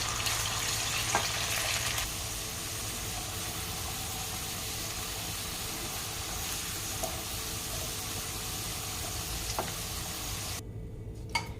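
Potatoes and mixed vegetables fry in a pan for a dhaba-style mix veg sabji, a dense continuous sizzle that stays steady and fairly loud throughout, with occasional faint clicks of stirring.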